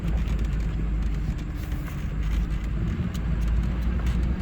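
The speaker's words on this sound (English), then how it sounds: "now it's time to go for a little test drive" A 2005 Chevrolet Silverado with an LLY Duramax diesel, freshly fitted with a rebuilt FICM, drives on the road with a steady cabin drone of engine and road noise, continuous and even throughout.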